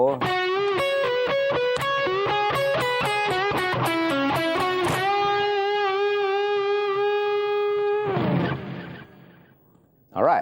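Electric guitar plays a song's solo phrase, a quick run of distorted bent notes that settles into one long sustained note before fading into a brief noisy scrape, then a short burst at the end.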